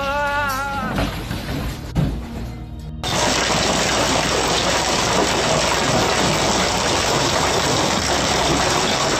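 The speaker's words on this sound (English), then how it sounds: "Hail pours down relentlessly" Hail pours down relentlessly in a loud, dense, unbroken roar that starts abruptly after a few seconds of muffled talk and then holds steady to the end.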